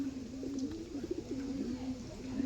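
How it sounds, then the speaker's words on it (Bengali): A female pigeon coos in repeated low, wavering phrases, close and fairly quiet, with a faint rustling background and a hint of distant voices. "এই হচ্ছে ওই মাদি পায়রা"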